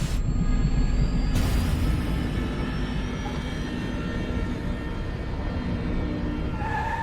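A car roars off at full speed, a loud, continuous engine rush close by with no voices, the tone rising briefly near the start before holding steady.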